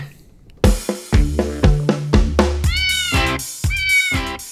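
A cat meows repeatedly, about eight short, close calls in quick succession, some higher and more drawn out than others.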